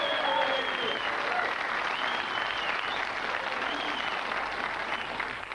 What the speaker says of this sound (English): Here's the real applause for Lloyd Grossman.